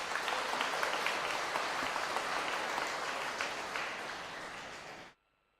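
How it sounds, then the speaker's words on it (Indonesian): A congregation at a Holy Saturday night Mass claps for the Kredo choir, steady dense applause that slowly tapers over several seconds before cutting off into silence. "Kepada kelompok kor Kredo kita aplaus untuk mereka."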